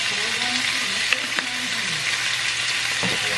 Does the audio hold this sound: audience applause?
no